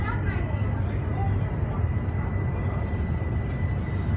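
An airplane engine roars steadily and loudly nearby, a continuous broadband rumble with a faint high whine, as an aircraft taxis slowly at Frankfurt Airport.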